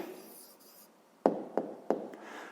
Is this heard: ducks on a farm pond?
no